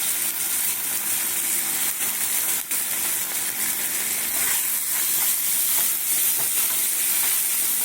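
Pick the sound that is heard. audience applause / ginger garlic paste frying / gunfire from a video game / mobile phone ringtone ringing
ginger garlic paste frying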